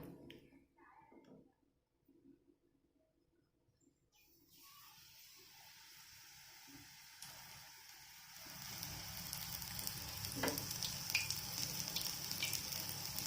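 Raw banana bajji deep-frying in hot oil, a quiet start giving way to a steady, growing sizzle and crackle that fills the second half without any talk.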